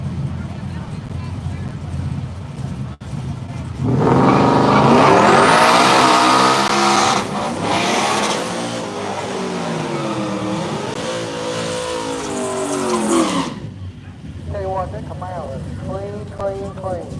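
An all-wheel drive Ford F-150 launches at a no-prep drag strip, its engine revving hard into a loud roar for about ten seconds before cutting off, with an announcer talking before and after.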